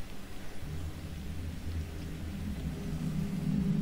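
Thunderstorm in the video game No Man's Sky, a steady rain wash with low rumbling thunder that swells slightly toward the end, heard without speech.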